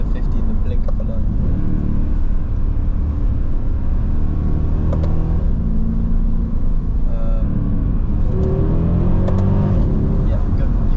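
A 2010 Mercedes E63 AMG accelerating hard after a downshift, a deep continuous engine rumble with rising tones heard from inside the cabin while people talk over it.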